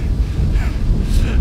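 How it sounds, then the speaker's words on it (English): Strong wind buffets the microphone while cycling toward Trois-Vierges, Luxembourg, in a low, steady roar with gusty swells, loud and close throughout. "And it's very windy"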